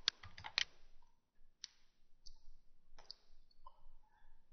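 Sharp mouse clicks in a quiet room while installing software in Microsoft Word 2010, a quick cluster of several clicks at the start followed by a few more spaced single clicks.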